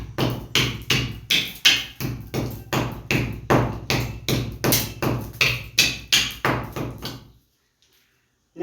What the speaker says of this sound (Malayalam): സുഖമായിട്ട് ആണി അടിക്കാം